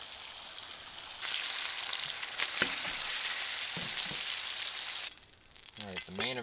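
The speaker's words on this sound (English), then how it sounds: "Basically just making more bacon." Bacon fries in a pan at a snowy winter campsite, its close, steady crackling sizzle rising after a quiet start and holding for several seconds before dropping away, with a brief voice-like sound at the very end.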